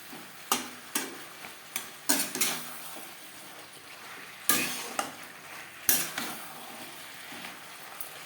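Tender bottle gourd stalks being stirred with egg masala in a pan, repeated sharp scrapes and clacks of a spoon against metal over a low sizzle, close by, with no voices.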